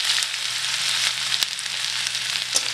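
Ginger and green chili paste with a pinch of asafoetida frying in hot oil, giving a loud, close, continuous sizzle with scattered sharp pops and spatters, no talk.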